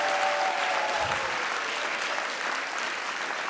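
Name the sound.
audience applause for staff members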